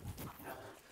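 A dog growls and snarls during a close greeting exchange with another canine, low rumbling sounds rising and falling over about a second, fairly quiet and near.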